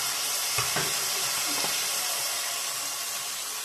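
Masala frying in a pan for a fish curry with potato and cauliflower, giving a steady close hiss of sizzling with a few soft knocks of stirring early on.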